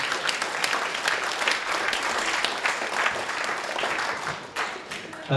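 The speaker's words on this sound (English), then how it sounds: "Big round of applause for George" A theatre audience at a comedy show premiere applauds a performer named George, a full, continuous wash of clapping that holds steady before dipping and swelling again near the end.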